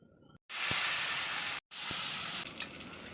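Prawns drop into hot oil in a pan and sizzle loudly, with a broad, steady frying hiss that briefly cuts out twice and resumes, crackling near and alone.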